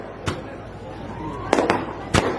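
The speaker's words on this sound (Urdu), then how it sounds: "یہ جو پٹاخے بازی ہو رہی ہے یہ ہم نہیں کر رہے" Firecrackers being set off outdoors: several sharp, loud bangs, one early and a tight cluster later, each rising above a steady background hum.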